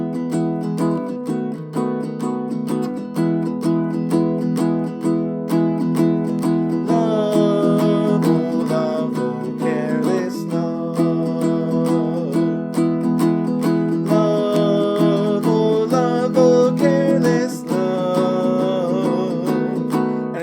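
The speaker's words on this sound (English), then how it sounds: "Option number 1 is a shuffle strum. Down, up, down, up, down, up, down, up." A ukulele plays a continuous shuffle strum in a down-up pattern, with bright, steady chord strokes in an even swinging rhythm, up close and with no talking.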